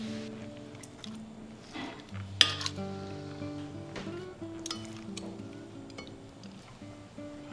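Marinated meat being placed into a cooking pot, with metallic clinks and clatters of the pot and utensils, one sharper knock near the middle, and a ringing tone lingering between quieter scrapes; no one speaks.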